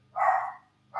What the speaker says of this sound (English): Oh yes, that's my dog. He's a yipper.